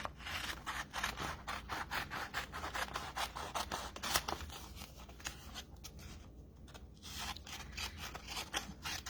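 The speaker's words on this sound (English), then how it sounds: "We'll cut that with our scissors." Glue-coated scissors cut through paper or card in a crafting session, a quick series of close, crisp snips and scraping rasps repeating steadily, quiet and without talking.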